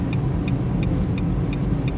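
A car engine idles and hums steadily with the throttle held during a driving lesson, a low continuous rumble alongside a regular light ticking, close and unbroken, with no one speaking.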